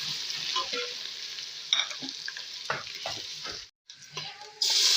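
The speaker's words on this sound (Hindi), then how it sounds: "अब हम लहसुन और अदरक जो है वो लाइट सी ब्राउन कर लेते हैं।" Garlic and ginger sizzle steadily in oil in a pan while being browned for nihari, with intermittent stirring scrapes and clatters over the continuous frying hiss.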